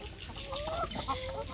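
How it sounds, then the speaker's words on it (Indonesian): Laying hens on a farm cluck and murmur in short rising calls, close and fairly quiet, with several birds overlapping. "Saya kalau memelihara ayam petelur ini, yang lebih dahulu saya perhatikan adalah minumnya"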